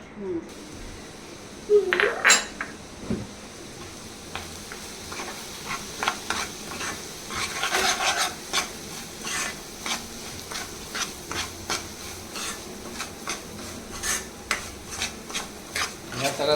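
Semolina being roasted in ghee in a pan for a mango sheera, with a spoon stirring and scraping in repeated strokes over a low sizzle, some knocks against the pan, close and moderately loud.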